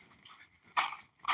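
A dog pants in quick, breathy bursts at close range, with short irregular puffs and a couple of louder exhalations, and no voices.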